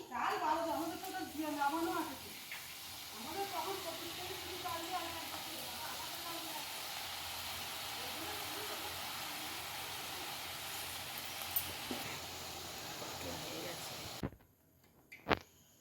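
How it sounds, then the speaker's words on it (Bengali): Jalebi dropped into hot oil in a wok fry with a continuous bright hiss and crackle that stays even for about fourteen seconds, then cuts off abruptly. A voice is faintly present near the start. "কড়াতে তেল গরম করতে দিয়ে দিয়েছি তেলটা গরম হয়ে গেছে আমি এবারে জিলিপিগুলো দিচ্ছি"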